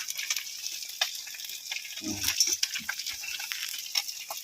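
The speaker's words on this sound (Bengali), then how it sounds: "হ্যাঁ, হয়ে গেছে প্রায় মাছ ভাজা, তোমাদের দেবো খেতে।" Fish, small tengra from a Sundarbans river, fries in a pan at an outdoor picnic, giving a faint, continuous sizzle with scattered crackles and pops and a brief stirring clatter partway through.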